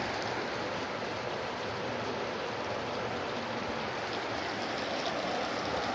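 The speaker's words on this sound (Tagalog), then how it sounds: "Lakas na naman yung ulan." Heavy rain pours over a village, a constant dense hiss with no break or variation, heard alone without any voices.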